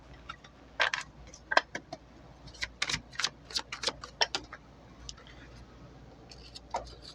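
Crisp, irregular clicks and flicks of tarot cards being shuffled close up, in quick bursts with brief pauses between.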